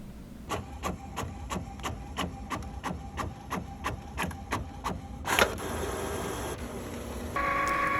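Cricut cutting machine working on a pop-up birthday card, a rapid series of evenly spaced sharp ticks followed by a whirring motor sweep and a steady mechanical hum.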